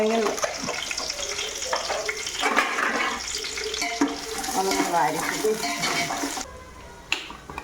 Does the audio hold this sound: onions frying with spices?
yes